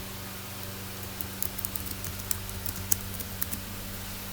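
Someone types on a computer keyboard, a sparse scatter of faint clicks over a steady background hum.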